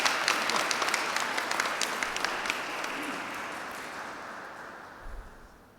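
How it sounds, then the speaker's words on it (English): A church congregation applauds Father Vinoy at a Christmas Day Mass, a full burst of clapping with a few sharp individual claps up front, trailing off gradually as a faint voice briefly sounds beneath it. "let us give him a loud round of applause for everything"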